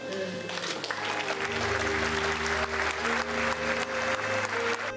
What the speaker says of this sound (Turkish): Özkan Uğur'un tabutu alkışlar içinde uğurlandı son yolculuğu için Taksim Camii'ne